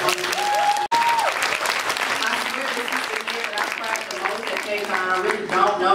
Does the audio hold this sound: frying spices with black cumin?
no